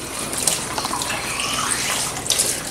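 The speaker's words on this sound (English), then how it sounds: "we will run a little bit of water through them" Tap water runs steadily through opened food packets in a kitchen, a loud continuous splashing stream with no voices.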